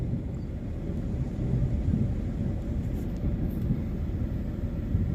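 Thunder from an approaching storm rolls as a deep, continuous low rumble, distant and steady, with light wind noise and no talking.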